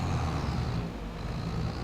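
A truck engine in a farming game set in Griffin, Indiana, a steady low idling rumble that runs continuously and close for a couple of seconds with no talk.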